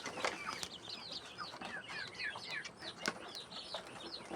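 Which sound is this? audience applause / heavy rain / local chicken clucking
local chicken clucking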